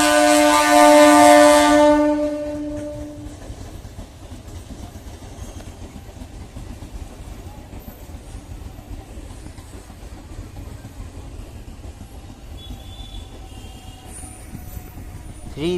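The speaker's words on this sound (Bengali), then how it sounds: "এখন দেখছেন Bandel railway station near train passing" Near Bandel Junction railway station, a train horn blares loudly at the start and then gives way to the steady rumble and rattle of trains rolling past for the rest of the stretch.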